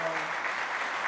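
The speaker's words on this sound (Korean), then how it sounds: "우리 박수로 한번 축하합니다." Brief applause from a church congregation during a Sunday morning service in Daegu, a short, dense burst of many hands clapping at steady loudness.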